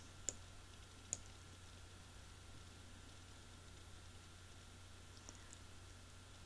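A computer mouse gives a few isolated, crisp clicks, spaced seconds apart, against a faint steady hum in a quiet room.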